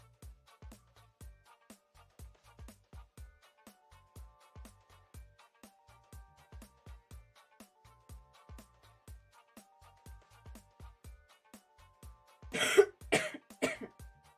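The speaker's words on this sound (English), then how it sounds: "I'm sorry for the coughs." A single person coughs in a short cluster of two or three harsh, close bursts near the end, following a long stretch of quiet, rhythmic faint taps.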